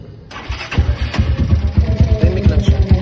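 An Xplorer 250 V2 motorcycle with a full-system straight exhaust and no resonator starts up and idles close by, giving a loud, rhythmic, lumpy putter of repeated low pulses.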